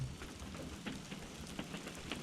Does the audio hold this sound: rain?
yes